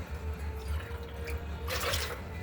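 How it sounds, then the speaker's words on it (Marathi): Water splashes and gurgles into a cooking pot, a short steady pour with a brighter splash near the end, close and fairly soft, with no talk. "6 फुलपात्र पाणी मी इथं घातलेलं आहे"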